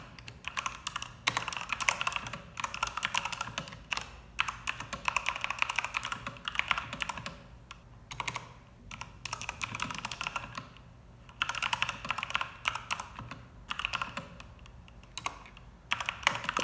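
Rapid, continuous typing on a Keychron mechanical keyboard, dense clacky keystrokes in bursts separated by brief pauses, close and clear with no talking.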